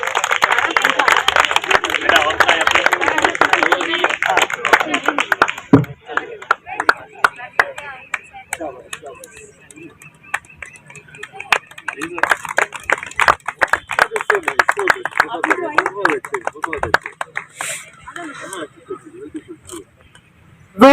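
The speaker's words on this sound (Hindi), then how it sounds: "तालियां बजाकर बच्चों का उत्साह वर्धन करिए" Crowd at an archery tournament prize ceremony claps for the winning teams, a dense burst of applause for about five seconds, then scattered claps and shuffling noise continuing with renewed clapping later.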